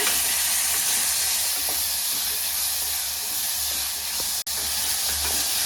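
Chopped tomatoes sizzle steadily in a pan while being sautéed for a Tamil green gram gravy, with a continuous bright hiss and a few faint stirring clicks, close and fairly loud, and a brief dropout near the end.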